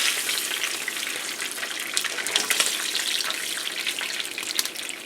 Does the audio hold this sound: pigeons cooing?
no